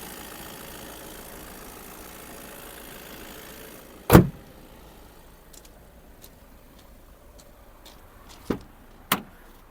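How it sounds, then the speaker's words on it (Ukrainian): A 2019 Volkswagen T6 long-wheelbase van with DSG gearbox idles with a low, steady hum, interrupted by a heavy thump midway and a few sharp clicks later. "Моторчик працює гарно, демпер не стукає"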